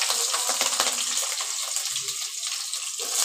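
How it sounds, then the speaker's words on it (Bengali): Chopped onion and green chili for chow mein fry in hot oil, a dense, loud, continuous sizzle with a few faint utensil scrapes, close and without speech. "প্রথমে পেঁয়াজ কুচি আর লঙ্কা কুচি আমি আগে ভেজে নেব।"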